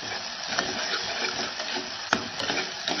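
Masala paste and ginger-garlic paste sautéing in a pan for a misal gravy, a steady broadband sizzle with scraping stirs and a few sharper clinks, close and continuous with no talk.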